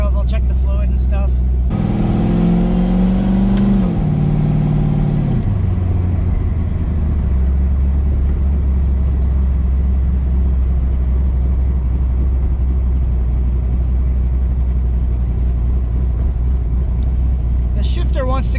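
A twin-turbo 5.3 V8 in a Mustang revs up briefly, then drops back to a deep, steady idle that rumbles close and loud for the rest of the stretch.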